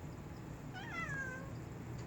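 A cat gives a single short meow, fairly close and clear, over a low steady room hum.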